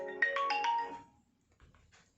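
A phone ringtone plays a short bright melodic phrase, fairly close and clear, then stops and gives way to near silence with faint rustling.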